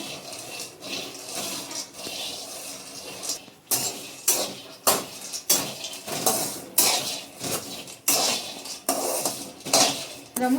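Half a kilo of peanuts lightly fried in a pan, stirred with a metal utensil, making repeated rattling scrapes and clinks in an irregular rhythm, close and fairly loud.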